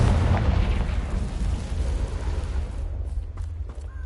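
Spell-blast explosion from the Confringo fire spell in Hogwarts Legacy, a sustained loud rumbling boom with crackling bursts that thins out into scattered sharp pops toward the end.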